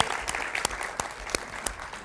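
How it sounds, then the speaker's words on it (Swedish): An audience at a film panel in Almedalen applauds the head of the Swedish Film Institute, a steady, fairly close round of clapping with a few sharper individual claps standing out. "En stor applåd."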